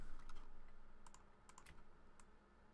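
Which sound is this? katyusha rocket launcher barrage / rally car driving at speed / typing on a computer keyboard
typing on a computer keyboard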